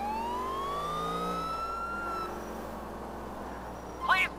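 Police car siren from the video game GTA IV with the LCPDFR patrol mod, a wailing tone sweeping up and holding over steady engine and road rumble, with a brief louder chirp near the end.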